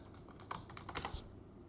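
Keys tapped on a computer keyboard while a password is entered at a Windows Server 2019 machine, a short quiet run of light clicks with a few sharper presses, no voices.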